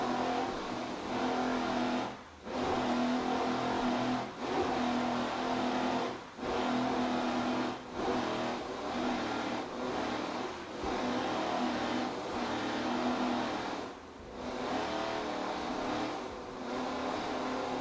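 A 40-foot Fountain offshore powerboat with Stotler power races in the 2005 Miami Grand Prix, its engines roaring loud and continuous with brief dips as the hull leaves the water and lands.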